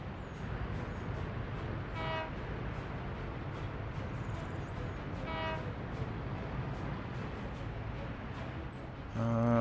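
Train rolling along in the Soviet-era city-building game Workers & Resources: Soviet Republic, a steady low rumble throughout with two brief horn toots and a louder horn blast at the end.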